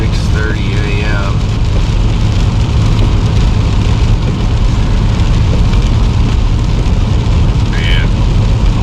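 Heavy rain pours steadily at 6:30 a.m., a dense broadband hiss that fills the scene with no letup, with faint brief sounds rising above it near the start and end.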